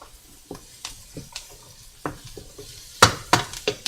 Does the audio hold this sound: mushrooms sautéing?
yes